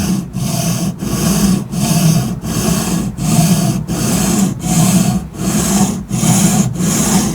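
A knife is ground on a coarse 140 grit Atoma diamond whetstone in a Tsprof guided sharpener, with about ten steady rasping strokes in an even back-and-forth rhythm, loud and close, with no talking.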